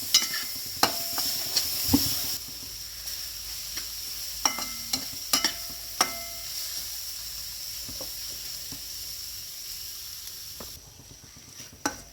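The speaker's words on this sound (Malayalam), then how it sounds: "ചെറുതായിട്ട് അരിഞ്ഞ തക്കാളി ഇതിൽ ചേർത്ത് നന്നായിട്ടൊന്ന് വഴറ്റിയെടുക്കണം" Finely chopped tomato sautéing in a pan for a homestyle squid roast, a steady sizzle with scattered clicks and scrapes of a spoon stirring, no talking.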